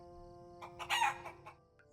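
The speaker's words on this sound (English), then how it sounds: "If you would go and see what is wrong with George, he's a very important rooster" George the rooster crows once in the Lord of the Rings Online video game in the Shire: a brief, quiet cock-a-doodle-doo rising and fading over a low steady ambient hum.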